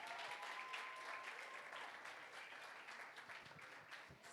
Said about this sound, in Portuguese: Vamos aplaudir a Jesus na vida dele.